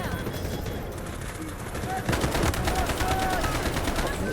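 PTR-32 rifle fire in the Delta Force video game: rapid, dense bursts of gunshots that swell and grow louder midway, with other combat noise mixed in.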